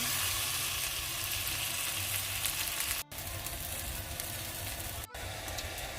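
Berry topping cooking over low heat in a pan for French toast, a soft, continuous sizzle and bubble, faint and steady, broken by two brief silent gaps.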